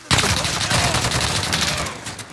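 Rapid automatic gunfire in the Call of Duty video game, a dense unbroken burst of loud shots lasting about two seconds with a sharp final crack, with faint voices barely present underneath.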